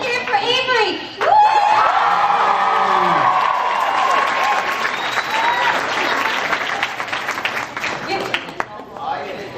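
Studio audience bursts into applause and whoops for Avery at a comedic script reading, sustained clapping and cheering with laughter and a voice mixed in, tapering off near the end.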